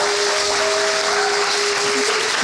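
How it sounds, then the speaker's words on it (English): An audience at a birthday fundraiser claps in a dense, continuous wash of applause, loud and steady throughout with a sustained tone running beneath. "I want y'all to give a round of applause for Soki Brown."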